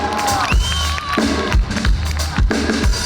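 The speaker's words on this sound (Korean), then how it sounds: "박수 한번 주세요." A crowd at an outdoor jazz festival in Seoul Forest cheers and shouts loudly, with whoops and bursts of noise over a steady roar, a few low thumps punctuating the din.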